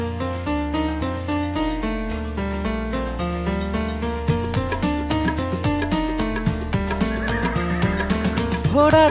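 A horse neighs in a Hindi nursery rhyme, a whinny rising near the end over a loud, steady, bouncy musical backing that plays throughout.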